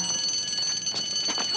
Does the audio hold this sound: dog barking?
no